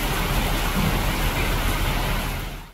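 Heavy rain with hail pounds a farm field in Ghazipur, Uttar Pradesh, a loud, dense, continuous roar that fills the whole stretch and fades slightly at the very end.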